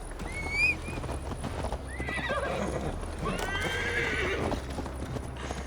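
A horse in Assassin's Creed Valhalla whinnies sharply, then hooves clip-clop along as it sets off, with a second longer neigh rising over the steady galloping beat.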